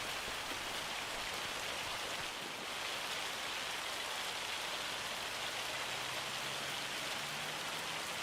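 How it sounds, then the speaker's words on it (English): Steady, even rain falls in the farming video game Farming Simulator 25, a dense continuous wash of drops on surfaces that runs alone for the whole stretch with no talk. "Oh, is it raining? Crap, it's raining."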